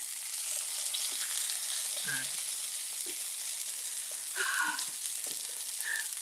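Burgers sizzle steadily in a hot pan, a constant crackling hiss with occasional faint clinks and soft sounds nearby.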